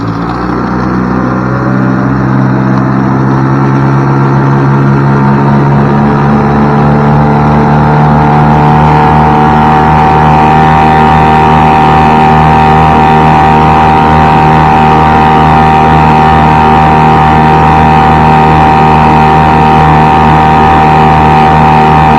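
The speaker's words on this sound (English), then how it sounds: "now we're going to zoom across the lake at 5 miles an hour and get back to the boat ramp" Small boat motor drones steadily while cruising across a lake at about five miles an hour, a loud, close, continuous hum with tones that slowly climb as it gathers speed, with no talk.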